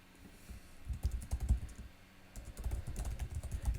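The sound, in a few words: typing a username on a computer keyboard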